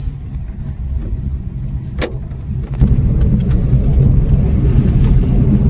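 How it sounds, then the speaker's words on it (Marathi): A large car driving toward a river, a loud, steady low engine and road rumble heard from inside the cabin that swells slightly partway through, with no talking. "बाईक अवेलेबल नाही, म्हणून आता मोठी गाडी घेऊन जायला लागते"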